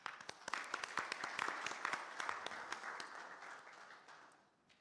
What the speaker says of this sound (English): welcome Ambassador online by a round of applause